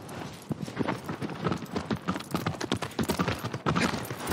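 A horse's hooves clip-clopping at a steady, fairly close trot in Shadow of the Colossus on PS4, a quick, even rhythm of distinct hoofbeats with no talk over it.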